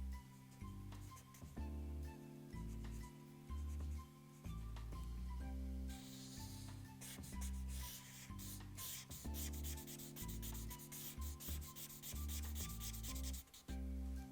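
Colored pencil strokes rub steadily across paper while a dinosaur drawing is filled in block by block, a soft continuous scratching that sits under louder background music.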